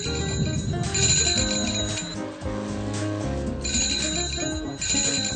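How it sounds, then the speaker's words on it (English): Bright bicycle bells ring repeatedly over a steady bustle on a busy shopping street, overlapping rings coming and going throughout, fairly close and loud. "so many locals pass through here that the bicycle bells never stop ringing"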